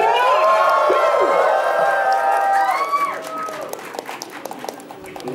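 A crowd at the 23rd Anime Sound Festival concert in Jeil Art Hall cheers and applauds loudly for a group, with high shouts and whistles sweeping over steady clapping that fades toward the end.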